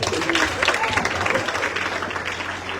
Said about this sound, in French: vous réapplaudissez, s'il vous plaît